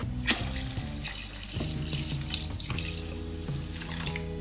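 A litre of water is poured steadily into a homemade laundry detergent mix of melted soap, baking soda and washing soda, giving a continuous close splashing gush with small bubbling changes.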